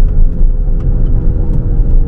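A Hyundai Ioniq 5 N electric car downshifting through its simulated gearbox: a loud, steady low engine-like rumble and drone, close up and continuous, with no voices.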